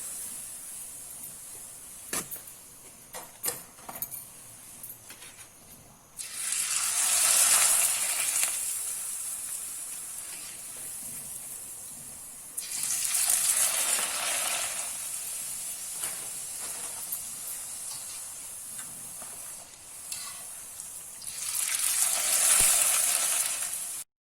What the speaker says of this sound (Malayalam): ഇതിപ്പം നമുക്ക് വറുത്ത് നോക്കാം. എണ്ണ മൂത്തു. ഇനി നമുക്ക് ഇത് കാച്ചിയെടുക്കാം